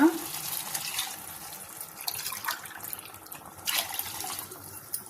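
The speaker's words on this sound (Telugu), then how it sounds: "నీళ్ళు పోసుకొని కలుపుకుందాం." Water pours and splashes into a pot of vegetable biryani with rice, running steadily for a few seconds with small surges and gurgles, close up.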